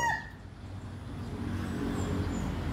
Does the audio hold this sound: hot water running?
no